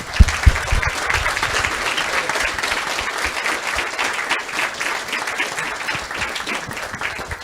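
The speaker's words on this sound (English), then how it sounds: "All of you that are here, please, a big applause for them." An audience at a youth food-system gathering applauds the young people in attendance, with steady, dense clapping that holds throughout at an even level and no talk over it.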